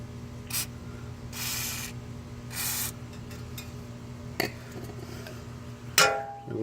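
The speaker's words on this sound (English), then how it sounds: "put some spray lubricant here to break this loose" Spray lubricant hisses onto the seized bolts of a 2013 Hyundai Sonata front wheel bearing in three separate close bursts, each about half a second long, followed by a light metallic clink and a rattle of tools.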